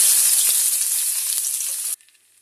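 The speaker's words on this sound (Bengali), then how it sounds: "পেঁয়াজটা নরম না হয়ে আসা পর্যন্ত পেঁয়াজগুলো নাড়তে থাকবো" Chopped onions fry in oil, giving a loud, close, continuous sizzle with faint stirring. The sizzle cuts off abruptly near the end, and a quiet, near-silent tail follows.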